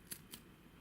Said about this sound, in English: Let's bring the scissors in